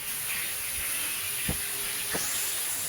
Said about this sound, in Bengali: এই যে আমাদের শাক ভাজি হচ্ছে, মাছ হচ্ছে